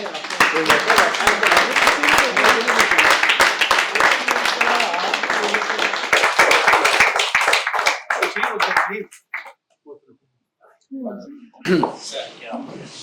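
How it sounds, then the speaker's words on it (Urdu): Sustained, dense applause from a mushaira audience welcoming a poet to the stage, loud and steady for about eight seconds before fading into scattered claps and a speaking voice. "یہ آپ سب کی بھرپور تالیوں میں بلکہ کھڑے ہو کے استقبال کیجئے"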